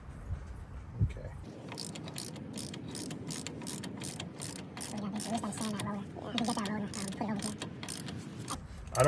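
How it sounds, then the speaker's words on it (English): A ratchet clicks steadily while spinning down the wheel bearing lock nut on a 2016 Chevy Silverado 1500, a fast run of close metallic pawl ticks continuing for several seconds. "we're going to use the ratchet"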